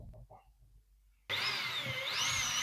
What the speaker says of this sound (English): Drill the wall.